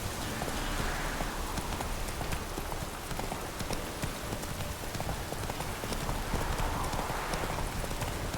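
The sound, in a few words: horse galloping in The Witcher 3: Wild Hunt video game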